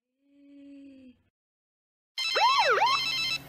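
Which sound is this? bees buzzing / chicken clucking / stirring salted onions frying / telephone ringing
telephone ringing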